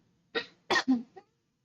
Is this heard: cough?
yes